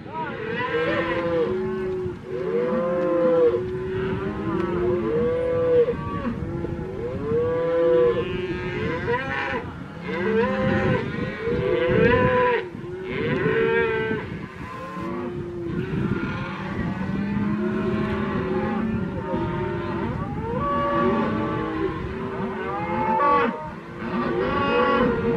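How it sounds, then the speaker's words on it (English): A bull near a camp at Vedauwoo, Wyoming, lows repeatedly in long, loud, drawn-out moos that fill the whole stretch, with brief pauses between calls and no talking. "came face to face with that bull"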